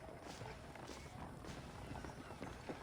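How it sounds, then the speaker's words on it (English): Horse hooves clip-clop at a steady walking pace in the Western video game Red Dead Redemption, a faint continuous patter of clopping under a soft background wash, with no talk over it. "I asked Nastas to bring the horses around front"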